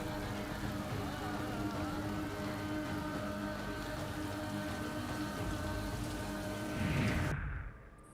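Steady, dense rain hisses without a break, a heavy downpour that stops abruptly near the end.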